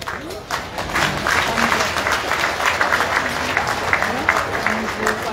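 Sustained applause from a crowd at a public service awards ceremony in honour of distinguished employees, steady dense clapping filling the whole stretch with a faint murmur of voices underneath.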